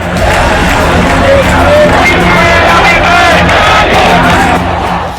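A huge crowd of Hindus protesting on the streets of Bangladesh roars and chants continuously, with many overlapping shouts and yells forming a dense, loud wall of voices for the whole stretch.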